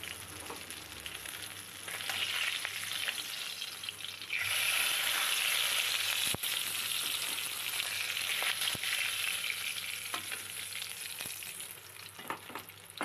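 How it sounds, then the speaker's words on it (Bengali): Small charapona fish fry in hot oil with a continuous bright sizzle that swells louder midway, then settles, with occasional stirring clinks and no voices. "প্রথমে আমি মাছগুলো ভেজে নেব।"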